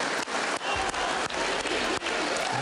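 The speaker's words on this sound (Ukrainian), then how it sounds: "Його шаленими оваціями зустрічали в американському конгресі." A sustained ovation for Ukraine's President Zelensky in the US Congress: dense, loud clapping from a large crowd fills the hall steadily throughout, with no pauses.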